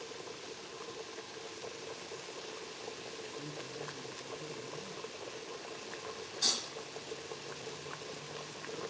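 Three plantains frying in hot oil for tostones give a steady low bubbling and hiss throughout, with one brief sharp clink partway through.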